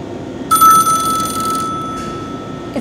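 A telephone rings on a live electronics call-in show, one loud, bright electronic ring burst followed by a fainter second ring, close and with no talk.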